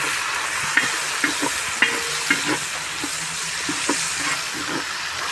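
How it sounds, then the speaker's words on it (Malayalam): Onions frying in oil while being stirred, a steady sizzle broken by repeated scraping and knocking strokes of the spoon against the pan, heard close. "അതിലേക്ക് ആദ്യമായിട്ട് ഉള്ളി ഇനി നല്ലോണം ഇളക്കി കൊടുക്കാം"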